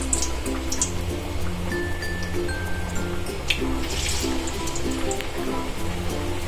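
Dhebara vada batter sizzles in hot oil as a steady, close crackling hiss with fine popping bubbles, continuous throughout with no speech.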